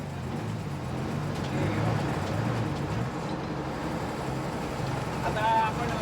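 A truck engine with a fault and a noisy starter, running on a difficult mountain crossing, gives a steady low rumble and drone throughout, with people talking over it.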